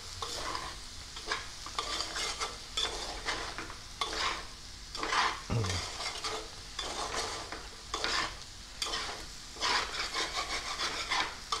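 A spoon scrapes and stirs potato curry in a pan in repeated rubbing strokes over a soft sizzle, close and moderately quiet.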